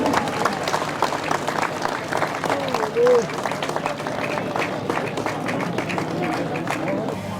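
Crowd applause at an outdoor BJP political rally welcoming Nitin Gadkari: sustained, dense clapping and crowd noise throughout, moderately loud and steady, with a short tonal blip midway.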